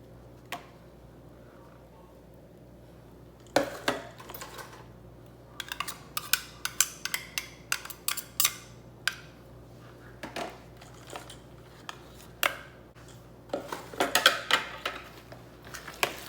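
Spicy turkey meatloaf mixture with blended mushroom being stirred in a bowl, giving scattered close utensil clicks and scrapes against the bowl in irregular bursts over a quiet background.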